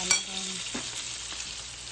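Steady hissing sizzle of fish frying in hot oil, close and even, with a faint clink near the start.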